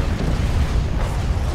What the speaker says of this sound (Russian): Артиллерия бьет вражеская